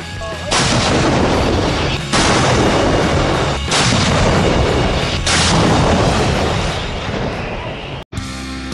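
Towed howitzer field artillery of the Indonesian army firing in a rapid series of loud, heavy booms, each blast rolling into the next with dense rumbling reverberation, ending in a brief cutoff.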